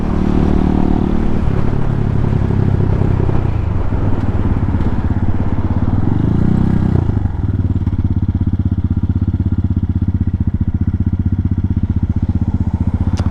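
A 2022 Honda Hawk 250 motorcycle engine drones steadily while riding on errands through town, loud and close throughout with a low rumble, a brief swell near the middle, and no talking.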